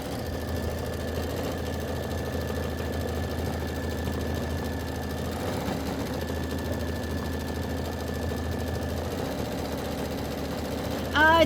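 An embroidery machine stitches out a quilt block. It makes a steady, continuous mechanical hum and whir with a faint tonal whine, running unbroken at moderate loudness, with no talk over it.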